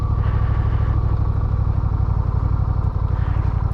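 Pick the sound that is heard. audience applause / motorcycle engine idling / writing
motorcycle engine idling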